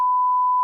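A single steady censor bleep, one unbroken pure tone lasting under a second, clean and alone with no other sound around it.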